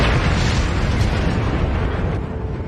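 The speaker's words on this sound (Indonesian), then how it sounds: "Wang pun meledakkan granatnya" A grenade blast in a war film, a loud, sustained roaring explosion that fills the whole moment and tapers off slightly at the end.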